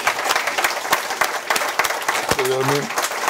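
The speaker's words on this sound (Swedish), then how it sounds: "Vi tackar Jan Guillou med en stor applåd." Audience applauding Swedish author Jan Guillou at the close of a guest talk, a dense crowd clatter of hands under a voice that speaks briefly near the end.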